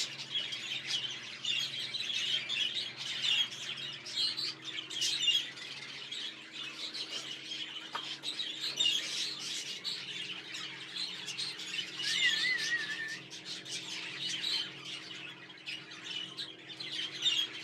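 Busy budgie chatter fills the whole stretch, with steady chirps and squawks from several birds over a low hum, fairly close and continuous.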